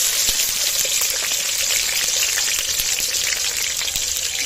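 Cut potatoes hitting hot oil in a heated kadai for mung dal, giving a loud, continuous close-up spitting sizzle with scattered crackling pops.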